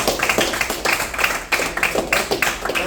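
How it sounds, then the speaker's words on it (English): Audience applause at a motivational talk, heard as uneven bursts of clapping with rhythmic peaks, fairly close and moderately loud for a few seconds. "Come now. on, give yourself a round of applause."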